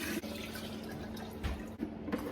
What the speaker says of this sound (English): We'll just pour that straight in there on top of our SCOBY.